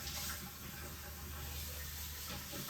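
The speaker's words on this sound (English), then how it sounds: "Let me just get some water in here and some dish soap." Tap water running into a bowl with dish soap, a faint steady hissing stream with no break.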